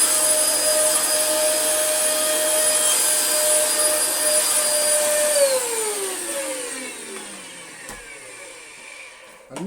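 Steady whine of a Dyson DC24 upright vacuum's bare, worn motor running loud and close with sharp tonal lines, then spinning down with falling pitch toward the end.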